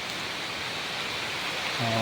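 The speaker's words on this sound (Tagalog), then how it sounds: "Ulan na, malakas ito." Heavy rain pours down in a dense, steady hiss, with a faint tonal hum creeping in near the end.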